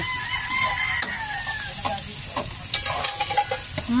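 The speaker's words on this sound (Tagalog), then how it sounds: "kawali na may mantika at siya po ay magigisa na" Onion, garlic, ginger and lemongrass sizzle in hot oil in a wok, a steady crackling fry with scraping stirs and a few clinks, while a rooster crows faintly in the background.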